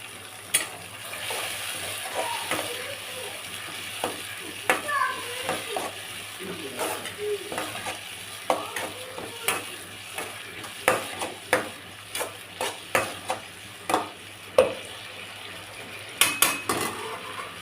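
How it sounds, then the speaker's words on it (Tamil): Lemon rice mixture bubbling and simmering in a pan on the stove, a soft continuous sizzle and bubbling with repeated light clinks and scrapes of a spoon stirring against the pan, moderately quiet and close. "ரெண்டே நிமிஷம் கொதிட்டோம்."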